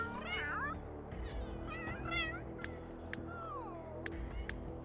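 Cats in the Sims 3 video game giving several short, rising and falling meows in close succession, with sharp clicks and a quiet ambient hum underneath.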